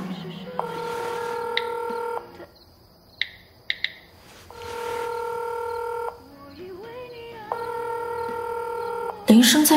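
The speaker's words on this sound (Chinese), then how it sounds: "确实是门里面的铃声。" A phone ringtone sounds from behind a closed door, heard as three long repeated ringing bursts separated by short pauses, with a few brief electronic beeps between them and a sharp knock-like burst at the end.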